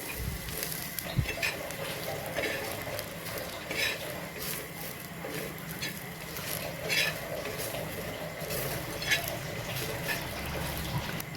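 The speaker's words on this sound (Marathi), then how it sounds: "बारीक खिसलेलं खोबरं आहे आणि तीळ टाकायचे आपल्याला आणि भाजून घ्यायचं आपल्याला ही पण चांगलं" Finely grated coconut and sesame seeds dry-roasting in a pan for a fish curry masala: a soft steady sizzle and rustle with periodic scraping stirs against the pan, close and continuous.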